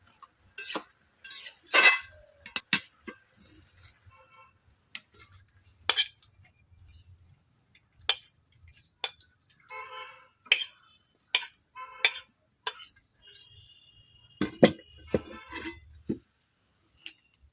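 A metal spatula clinks and scrapes against a kadai while boiled potato is chopped with cabbage, giving intermittent sharp metallic taps and short scrapes separated by quiet gaps, close and without talk.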